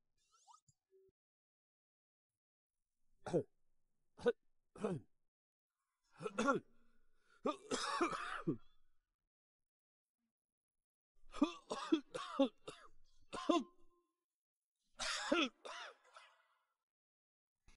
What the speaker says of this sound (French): Tu tousses sans arrêt